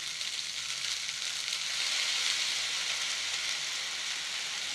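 Egg fried rice is stirred with soy sauce in a pan on high flame, a loud, steady, close sizzle and hiss that holds evenly without pause.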